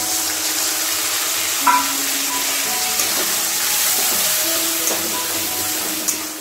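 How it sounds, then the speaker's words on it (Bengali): Ground garlic, ginger and chilli paste, stone-ground, fries in a pan with softened onion and tomato for homemade chicken biryani, giving a steady close sizzle with a few faint clinks and taps. "এবার আমি মশলাটা দিয়ে দেবো, শিলে বাটা মশলাটা। রসুন, আদা আর লঙ্কা বাটা।"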